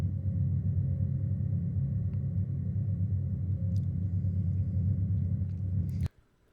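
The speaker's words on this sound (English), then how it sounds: "That sound is originally an engine that I recorded on a ferry." Low, steady engine-derived drone built from a ferry engine recording, a dense rumbling hum that holds evenly for about six seconds, then cuts off abruptly into near silence.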